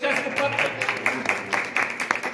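Scattered, uneven clapping from an audience at a Republic Day school celebration, moderately loud with distinct individual claps rising and falling over a couple of seconds.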